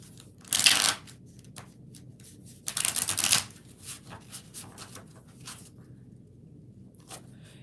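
Tarot cards shuffled in two brisk riffling bursts, close and crisp, followed by softer card handling and light taps, no talking.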